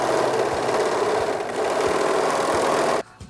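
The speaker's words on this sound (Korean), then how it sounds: "시접 마무리는 오버룩으로 해주십니다." An overlock sewing machine finishes seam allowances on cotton fabric for a child's dress. It makes a loud, continuous rapid mechanical buzz that stops abruptly near the end.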